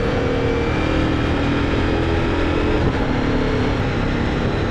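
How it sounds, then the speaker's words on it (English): Ducati Multistrada V4 Rally motorcycle with its V4 Granturismo engine, a steady loud engine roar mixed with wind rush while riding, sustained without pause. "this bike has a V4 engine, the V4 Gran Turismo engine from Ducati"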